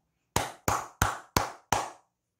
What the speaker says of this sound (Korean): 여러분, 다시 한번 박수 한번 치고 가겠습니다.